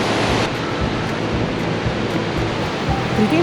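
Boringsfossen waterfall in Norway pours as a steady, dense roar of rushing water, even and unbroken throughout, fairly close and with no voices over it.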